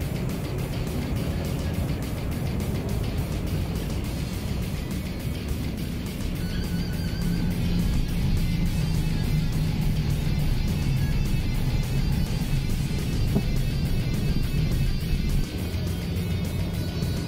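Dense street traffic in Manila, a continuous loud wash of car and motor engines with passing vehicles and occasional revving, steady throughout with no clear voices.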